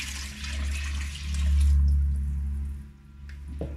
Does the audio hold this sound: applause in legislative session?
no